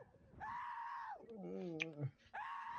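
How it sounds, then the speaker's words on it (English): A prolonged wailing scream in a video game rises, bends into a wavering groaning cry, then resumes, loud and close with no talk over it. "Oh, I heard it too. Yeah, the scream."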